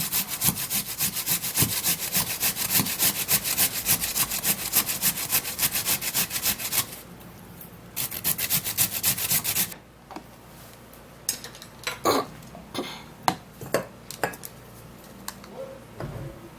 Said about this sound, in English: Then we're gonna be peeling the potato, and I'm also gonna be grating the potato.